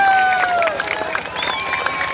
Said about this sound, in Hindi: इनकी हौसला अफजाई के लिए तालियां साथ साथ बजाते हैं।